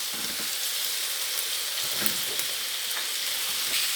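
Asparagus frying in a pan with chicken, a soft continuous sizzle and hiss with faint occasional scrapes, fairly quiet, no voices.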